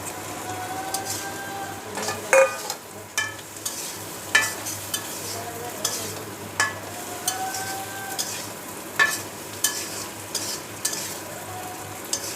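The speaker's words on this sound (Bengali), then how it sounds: "এবার দিয়ে দিচ্ছি ভেজে রাখা মিষ্টি কুমড়োগুলো" Fried pumpkin pieces stirred into a pan with spices and ground pepper, a steady sizzle of frying under repeated sharp scrapes and clacks of a spatula against the pan, close and fairly loud, with no talking.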